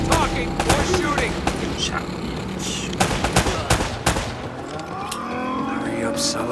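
Gunfire in the video game Uncharted: Drake's Fortune, repeated sharp shots and bursts ringing out in an intense firefight, with characters talking in between.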